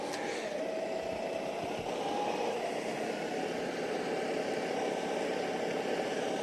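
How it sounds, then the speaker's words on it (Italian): A tractor reverses while pulling a hose-laying irrigation machine, giving a steady mid-pitched engine drone with broadband mechanical noise that holds at an even, moderate level throughout. "in questo caso il trattore per semplicità opera in retromarcia"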